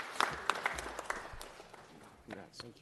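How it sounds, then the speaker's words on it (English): Brief scattered clapping from a small audience at a city council meeting, honouring a coach, quiet and quickly fading as a voice begins speaking. "let's give Coach Manuel Douglas a round of applause"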